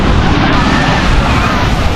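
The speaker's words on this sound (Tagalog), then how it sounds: "Grabe, lakas ng alon." Strong sea waves crash along the shore at Dingalan, producing a loud, continuous roar of surf that fills the whole stretch without letup.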